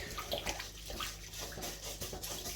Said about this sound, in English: it just needs a quick rinse